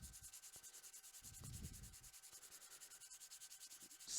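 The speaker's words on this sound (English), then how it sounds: "Sanding off the smoke, just the top layer." Laser-engraved wood is sanded by hand with 220 grit sandpaper in a quiet, steady back-and-forth rhythm of close, soft rasping strokes.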